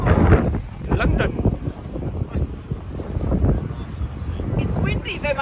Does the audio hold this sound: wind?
yes